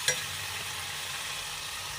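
Mutton stir-fried with yogurt in a pan gives a steady, close hiss of sizzling, with one brief clink at the start and no voices.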